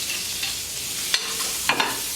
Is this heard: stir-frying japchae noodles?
yes